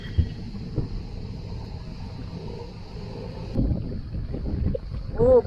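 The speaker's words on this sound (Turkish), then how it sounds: "O iskeleye kıçtan kara oluyor." A boat moors stern-to at a pier on the Greek island of Symi, with a low, steady engine rumble and wind noise that swells near the end.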